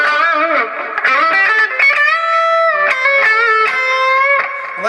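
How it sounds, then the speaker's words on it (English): Distorted electric guitar solo through a Bogner Ecstasy amp, with sustained bent notes and quick melodic runs. It is loud and continuous, with effects and reverb, and no talk over it. "And now I'm going to add in a little distortion on there."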